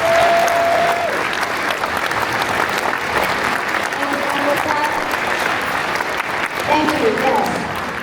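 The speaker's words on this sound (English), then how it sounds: "let's give him one more round of applause" A town hall audience with a senator present breaks into full, sustained applause, dense clapping at steady volume with scattered voices and a brief word of thanks underneath.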